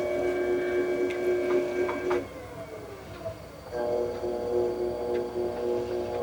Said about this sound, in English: I'm going to slow my wheel down a little bit